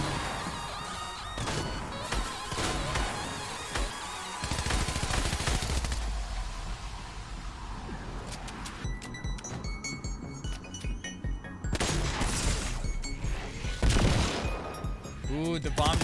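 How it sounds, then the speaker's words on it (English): Excalibur rifle gunfire in the fantasy dungeon game Dark and Darker, a busy mix of repeated shots and clinking impacts spread across the clip, with players talking over it. "the bomb just hitting him with the Excalibur rifle like he was doing to us"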